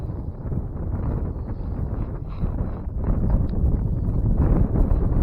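Wind gusts across open winter water during bass fishing, a loud low rumble of buffeting against the microphone that grows stronger toward the end, with no talking.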